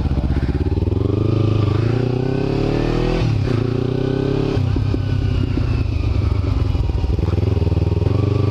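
A Kawasaki Ninja 300 motorcycle engine revs loudly up close, its pitch climbing and dropping across several throttle blips before it settles into a steady, rising drone.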